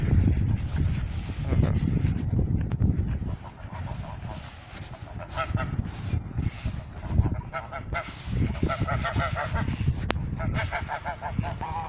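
Several domestic geese on a farm honk repeatedly nearby, loud harsh calls overlapping in bursts over a rough outdoor background.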